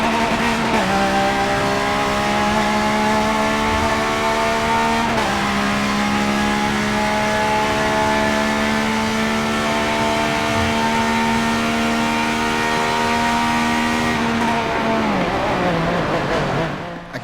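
Pagani Zonda Cinque supercar in Forza 7, its engine holding a loud, steady high-pitched wail with a gear-change dip near five seconds, then revving down at the end.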